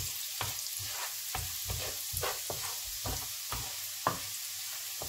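Garlic sautéing in a hot pan, a steady close sizzle broken by repeated scraping stir strokes at an irregular rhythm, with no voices.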